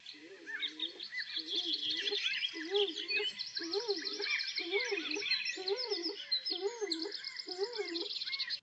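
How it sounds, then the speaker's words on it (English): Stock dove song: a repeated excited coo, eight or nine rhythmic two-part phrases at a steady pace, close and clear, with other birds chirping and trilling busily in the background. "Stock dove's song is an excited sounding coo."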